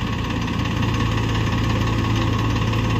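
Farmtrac 60 tractor diesel engine running steadily at full throttle, a loud continuous low rumble with a knocking vibration and no pauses, carried on without any talk.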